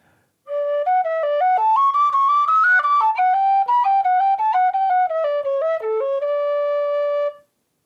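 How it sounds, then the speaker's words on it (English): The Silver Spire reel played on an A tin whistle in its low register, bright breathy notes moving briskly and continuously, heard up close and alone without any voices. "Now on an A whistle, I can stay down low."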